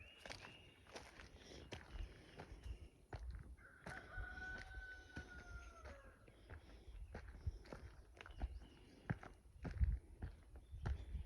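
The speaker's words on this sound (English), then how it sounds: "You can still hear that rooster in the background." A rooster crows from a distance on a trail at Jarrell Plantation in Juliette, Georgia, one drawn-out call rising and falling midway, faint beneath crunching footsteps and outdoor background noise.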